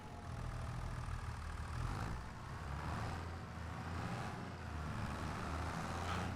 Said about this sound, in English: This is a good tractor.